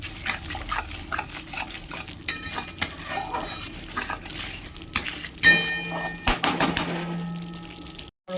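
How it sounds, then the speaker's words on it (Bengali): Spices sauté in a pan and are stirred with a utensil, giving a soft sizzle under repeated scrapes and clinks of metal against the pan, irregular and close. "আর একটু কষবো সামান্য"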